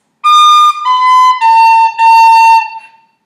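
A tin whistle plays the second phrase of the Irish tune Scatter the Mud: four bright, loud, tongued notes stepping downward, heard up close and alone before trailing off.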